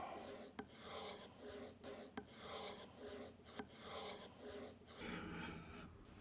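Tool edge honed to a micro bevel on a lubricated diamond stone, steady rhythmic rasping strokes close up with a few sharp ticks between passes, no voices.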